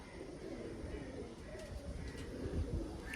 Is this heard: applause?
no